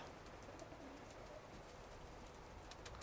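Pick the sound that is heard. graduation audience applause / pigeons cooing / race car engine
pigeons cooing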